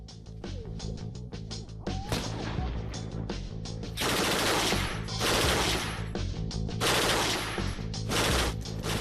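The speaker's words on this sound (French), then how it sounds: "La Mac 48 a une cadence de tir de 730 coups par minute et une portée de 800 mètres." A MAC 48 machine gun, rated at 730 rounds per minute, fires loud, dense bursts at a shooting training centre, with sharp reports and short pauses between volleys, heard close up and without speech.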